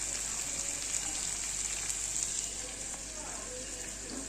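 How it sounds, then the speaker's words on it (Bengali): Cauliflower and potatoes fry in hot oil, giving a steady, close, even sizzle and hiss that lasts the whole stretch with no talking. "আর এখানে বসিয়ে দিয়েছি ফুলকপি আর গুঁড়ো আলু দিয়ে ভাজছি।"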